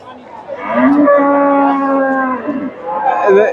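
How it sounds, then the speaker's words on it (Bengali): A Friesian dairy cow at the Bogura Dhap cattle market lets out a loud, drawn-out moo close by, followed by a shorter rising low call. "এখান থেকে আপনাদের কিছু গাভীর আপনাদের দাম দর জানাবো"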